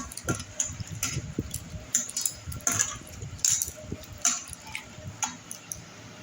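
Potatoes being washed and scrubbed by hand in water, giving a steady run of close, irregular knocks, clatters and splashes with no talking.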